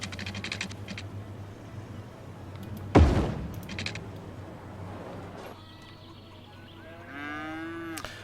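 Cattle lowing in the city-building game Cities: Skylines, several drawn-out moos over a low steady game hum, with a sharp thump near the middle and rising tonal calls toward the end.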